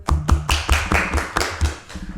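About ten sharp hand claps land in an uneven, loose rhythm, close and fairly loud, with no talk over them.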